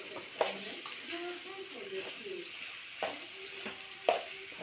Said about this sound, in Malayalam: എന്നിട്ട് നല്ലോണം ഇളക്കി കൊടുക്കണം